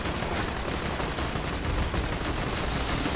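Rapid automatic gunfire from the video game Borderlands 2, including machine-gun bursts, forms a dense, loud, continuous barrage for the whole stretch with no talk over it.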